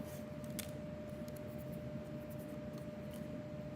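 Paper being trimmed for box decor with die-cut elements, giving soft, faint cutting and rubbing sounds with a few brief crisp snips over a quiet background hum.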